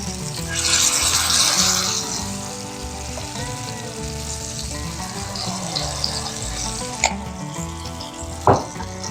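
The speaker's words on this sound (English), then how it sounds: "I'm going to cook that until it's good and golden brown around the edges, and then I'll flip it." Squash fritter batter sizzles steadily in a hot pan, a constant close frying crackle with a brief louder clink near the end.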